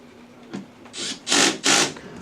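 A power drill whirs in short bursts tightening screws while assembling a stand, two longer runs close together after a brief first blip, with faint scraping between.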